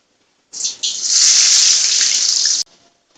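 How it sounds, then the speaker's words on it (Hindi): Chopped onions dropped into hot oil for a white korma, giving a loud, steady sizzle that bursts in abruptly, briefly dips, then holds for about two seconds before cutting off. "देखिए हमारे प्याज हमने इसमें डाल दिए हैं"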